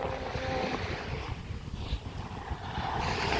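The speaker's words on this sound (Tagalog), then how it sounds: "Ang ganda ng dagat, oh. Naririnig nyo?" Sea waves at Coron, Palawan, a soft continuous wash of surf mixed with wind buffeting the microphone, steady and moderately close over a few seconds.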